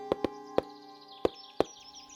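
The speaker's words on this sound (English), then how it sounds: "immediately giving an excited, hearty knock" An excited, hearty knock on a front door: five sharp, close raps in an uneven pattern, a quick double followed by spaced single blows, with a faint chirping tone lingering underneath.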